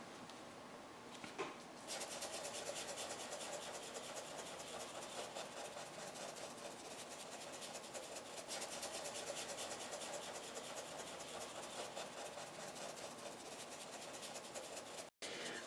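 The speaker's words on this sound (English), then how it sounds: "I work really fast when I'm dry brushing" A paintbrush dry brushing paint onto a Halloween banner, a fast, continuous scratchy rubbing of stiff bristles close up, steady and unbroken for most of the stretch with no talk.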